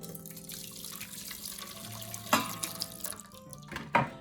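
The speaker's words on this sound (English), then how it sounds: "all I'm gonna do is pour that in our bowl" Dirty water from a sugarcane juicing machine pours and splashes into a bowl in short bursts, close by, with a couple of louder gushes near the end.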